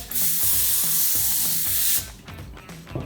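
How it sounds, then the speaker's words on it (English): A steady, loud aerosol cooking spray hisses onto a pan for about two seconds, then cuts off, leaving faint clicks and handling noise. "you're going to put some pan spray"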